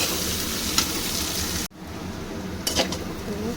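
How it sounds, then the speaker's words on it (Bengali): Onion frying until browned for a mutton keema and rajma dish, a loud continuous sizzle that briefly cuts out, then resumes with spatula stirs and light clinks against the pan. "এই পেঁয়াজটাকেও আমি একটু লাল করেই ভাজবো"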